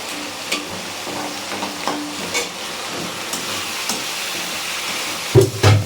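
Minced garlic and prawns fry in a hot pan while a cook prepares prawns with taro stolons, giving a steady close sizzle with soft stirring scrapes and a couple of louder clatters near the end.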